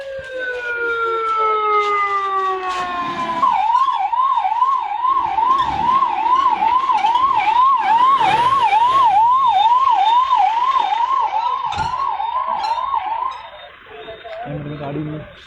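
An ambulance siren wails loud and close, sliding down before settling into a rapid rising-falling yelp, with voices and crowd noise underneath at a protest sit-in.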